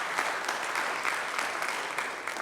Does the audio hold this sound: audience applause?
yes